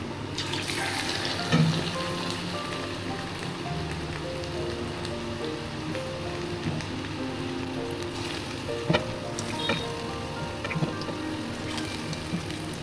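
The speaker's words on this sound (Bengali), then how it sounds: "এই কটা আগে ভেজে তুলে নিই, তারপরে আবার কয়েকটা করে ভেজে তুলে নেব।" Pakoras fry in oil over a low gas flame, a steady, fine, rain-like bubbling hiss that runs throughout at moderate level, with a few faint clicks and taps over it.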